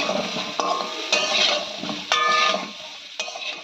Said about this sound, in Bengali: মটরশুঁটি দিয়ে ভালো করে মিশিয়ে নিতে হবে